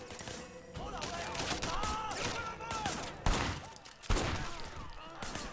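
Video game gunfire as rapid, sharp shots in a steady fusillade under game ambience, with two louder cracks near 3.3 and 4.1 seconds.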